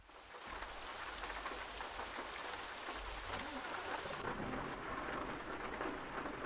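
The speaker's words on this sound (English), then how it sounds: "we do have some rain." Rain falls in the Euro Truck Simulator 2 video game, a steady, dense patter on surfaces with a low rumble underneath, continuous and fairly loud throughout with no one speaking.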